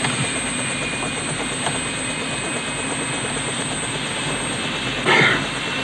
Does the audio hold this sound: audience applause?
no